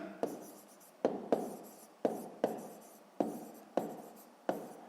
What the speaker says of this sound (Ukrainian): Записуємо в дужках чого кілометри.